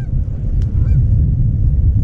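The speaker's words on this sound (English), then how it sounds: "There's a flock of geese there." A flock of geese honks beside a creek-side greenway trail, a few scattered distant calls over a loud rumble of wind and riding noise.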